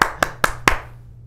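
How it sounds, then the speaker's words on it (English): A handful of separate hand claps, four sharp evenly spaced hits close by, greet the introduction of a magician at a small show, then fade into quiet room noise. "let's give a warm round of applause for my Uncle Fumpernutter the Magician."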